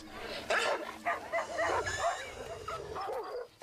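A dog whimpers and yelps in distress after a cobra spits venom into its eyes, giving repeated short cries over rustling outdoor noise with a faint voice in the background.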